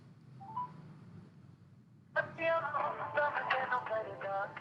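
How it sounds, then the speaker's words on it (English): A phone call ringtone starts after a quiet stretch with a faint tone, then repeats in loud, bright, warbling pulses in a classroom setting. "you can see immediately the ringtone is going, right?"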